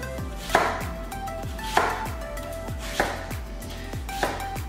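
A knife thinly slicing skinned onions for pickling on a cutting board makes four sharp, evenly spaced chops about 1.2 seconds apart, close and clear, with a faint hiss between strokes.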